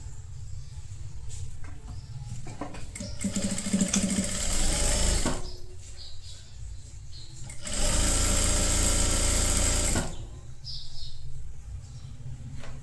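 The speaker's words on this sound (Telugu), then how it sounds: "ఇట్లా పెట్టి రౌండ్గా ఇలా ఇక్కడి నుంచి ఇక్కడికి కుట్టేసుకోండి" A sewing machine stitches kids' palazzo pants in two sustained runs of rapid, close whirring, with quieter handling noise between them.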